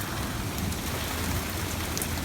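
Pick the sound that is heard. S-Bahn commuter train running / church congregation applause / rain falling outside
rain falling outside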